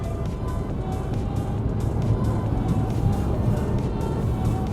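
Cabin engine noise from a Volkswagen Golf 7 with the 1.2 TSI petrol engine pulling in traffic: a steady, close, low drone with road rumble, no voices.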